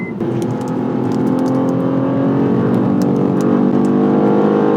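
BMW M2 CS (2026) driving hard and stepping out into a slide, a steady loud engine drone with harmonic whine running throughout, close and continuous, with faint higher tyre-like ticks overhead.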